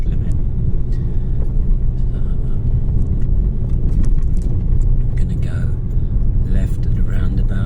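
Car engine rumble while driving in second gear at about 20 mph, a loud constant low drone with road noise and some jangling, under someone talking.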